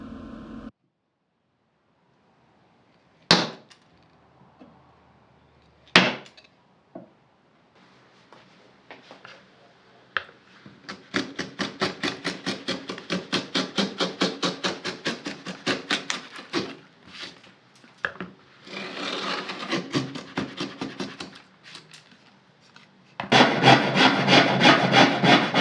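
Traditional hand tools cutting a rabbet along a wooden board, a few sharp knocks followed by long runs of rhythmic rasping strokes, close and fairly loud, with brief pauses between passes and no talking.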